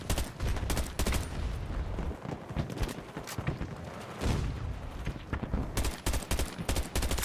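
Rapid bursts of gunfire from a weapon in the shooter Battlefield 2042, loud and close, with dense volleys broken by short gaps and a few heavier booms.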